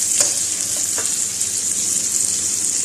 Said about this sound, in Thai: รวนน้ำมันแล้วหอมมากเลยครับ